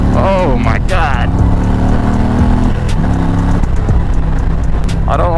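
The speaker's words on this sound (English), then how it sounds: "I don't like how the front picks up so far in this thing when you give it gas." A 2021 Indian Challenger motorcycle accelerates on a test ride, its engine rising in pitch with rumbling, steady loud revs, while a rider talks over it at moments.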